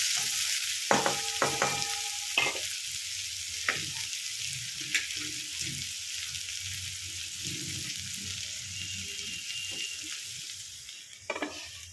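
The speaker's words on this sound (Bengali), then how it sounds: "এখানে একটু ঢাকা দিয়ে দেবো আঁচটা কমিয়ে, তাহলে পেঁয়াজটা ভালো করে ভাজা হয়ে যাবে।" Onions frying in a covered pan over low heat for chhena pulao, a steady close sizzle with scattered crackles and a few soft clinks throughout, no talk.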